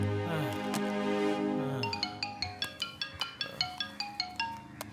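A telephone ringtone sounds in a dubbed South Indian action movie. A descending melodic phrase opens it, then it settles into a quick, regular series of bright, chiming pulses, fairly soft in the mix.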